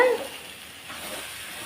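Eggplant and potato pieces sauté in ground masala in a pan for sambar, giving a soft, steady sizzle with a brief stirring scrape at the start, quiet and close.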